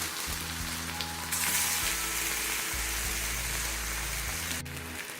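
Banana slices fry in ghee in a pan, a steady dense sizzle and crackle running the whole time with brief soft stirring shifts and no talk over it.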